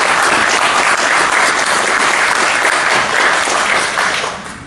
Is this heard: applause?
yes